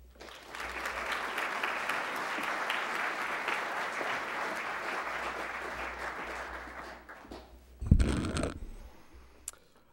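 Audience applause welcoming a student speaker at a university open house, sustained clapping from a room of people that fades out after about seven seconds, followed by a few close handling knocks.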